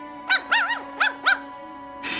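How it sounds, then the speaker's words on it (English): Small dog whimpering and whining in several rising-and-falling cries, close and fairly loud, heard alone over a steady low hum in an audio drama scene; no growl stands out. "Mary recognized Scruffy's whine coming from the kitchen, but what scared her was when it turned into a low growl"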